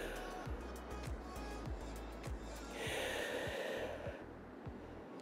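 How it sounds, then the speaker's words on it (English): Slow, deep breathing during a child's pose stretch in a Pilates arm workout, with long inhales and exhales against a steady background that carries a faint rhythmic thump; no words are spoken. "Big inhales, nice long exhales."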